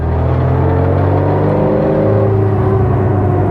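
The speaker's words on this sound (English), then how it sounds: "underneath the exhaust, you should be able to hear that little bit of whine and clatter in first gear" A 1960 Austin-Healey Bugeye Sprite in first gear, its steady close exhaust drone rising slightly as it pulls, with a faint whine and light clatter from the gearbox underneath.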